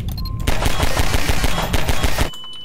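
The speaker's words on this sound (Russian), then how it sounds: "Вот это взрыв? Вот это взрыв, да?" A loud in-game explosion in Garry's Mod, a dense crackling burst that holds for about two seconds and then cuts off, leaving faint background tones.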